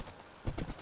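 Horse hooves clip-clop in Minecraft, a few soft uneven steps rising briefly over quiet game ambience at moderate distance, with no talk.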